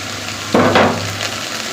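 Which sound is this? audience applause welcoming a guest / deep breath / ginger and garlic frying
ginger and garlic frying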